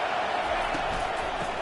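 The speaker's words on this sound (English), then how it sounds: "listen to this crowd roar" A stadium crowd roars steadily at a college football game, a dense, continuous wash of voices without letup through the short span.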